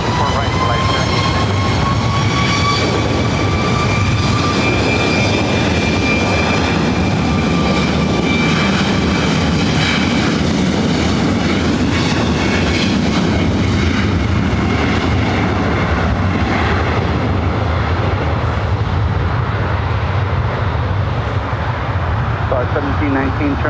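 Jet airliner taking off from runway 24 right at LAX, a loud, sustained engine roar with a rising whine that holds for the whole stretch. Air traffic control radio talk plays over it.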